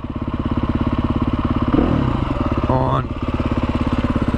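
Husqvarna TE310R motorcycle engine idling steadily up close with a fast, even chugging pulse, briefly revving around the middle while a person talks over it.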